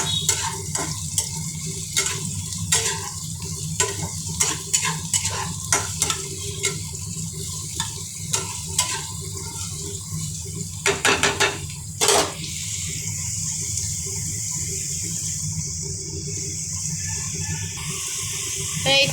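Potatoes fry in a pan with a continuous close sizzle, while a spatula scrapes and clacks against the metal in repeated strokes, sometimes in quick bursts. No one speaks.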